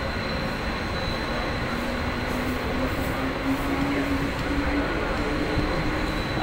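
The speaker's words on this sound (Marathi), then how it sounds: "मित्रांनो, आता आमची ट्रेन सुरू झालेली आहे." Mumbai local train running toward Chembur, a steady loud rumble of wheels and carriage noise with a faint rising wheel squeal, continuous throughout and no talking.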